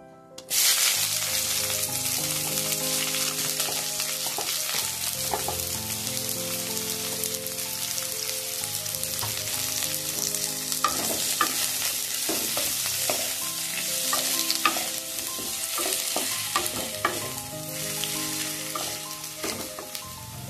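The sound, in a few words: frying chopped onions after mustard seed tempering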